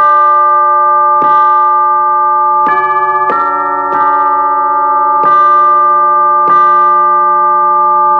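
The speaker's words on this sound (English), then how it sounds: "Chimes!" Chimes on a Pearl Mallet Station, an electronic percussion controller, ring out in a series of bright, sustained bell-like tones. Six or seven strikes come at uneven intervals, each note overlapping the last as it decays, loud and close.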